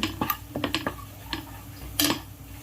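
Turmeric and masala being stirred in a metal pot for Malvani shark curry: a series of close, bright clinks and scrapes of a spoon against the pot, irregular taps with a louder scrape near the end, no talking.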